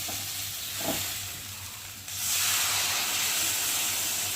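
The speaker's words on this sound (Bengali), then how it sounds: "তরকারিটা কষানো হয়ে গেছে আর এখন আমি এর মধ্যে জল অ্যাড করবো" Water poured into a frying potato and pointed gourd curry sets off a loud, steady hiss of steam that swells after a brief thump and holds strong, with a low background hum underneath.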